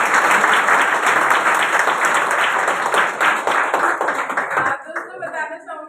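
Loud applause from an audience at a business success-stories event in Faridabad, dense steady clapping for nearly five seconds before it thins out abruptly into a few scattered claps and murmurs.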